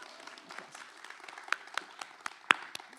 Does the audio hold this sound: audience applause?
yes